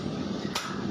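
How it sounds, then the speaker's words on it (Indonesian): A power hammer strikes hot steel from a ship's valve head being forged into a carving knife, heard as a single sharp impact over steady, loud workshop rumble. "kembali lagi dihantam power mesin"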